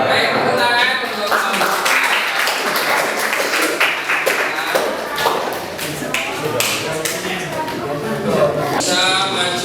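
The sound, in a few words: applause, clapping hands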